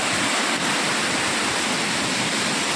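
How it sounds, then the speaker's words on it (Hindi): Water pouring over a dilapidated dam in Mahad, a loud, steady roar of falling water filling the whole stretch with no breaks and no voices. "ये देखिए पानी कैसे गिरता है।"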